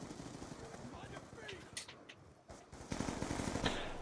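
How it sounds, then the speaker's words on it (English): Fully automatic SMR fire in an online shooter game comes as rapid, steady bursts of gunfire, fairly loud and continuous, building toward the end over game background noise. "He's using a fully auto SMR."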